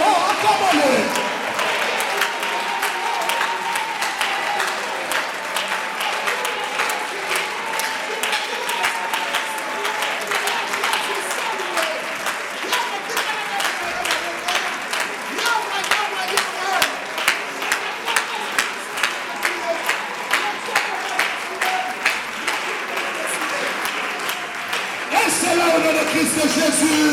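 A church congregation at a seminar closing applauds continuously, dense clapping that settles into a more rhythmic, unified beat toward the end, with cheers and voices mixed into the crowd.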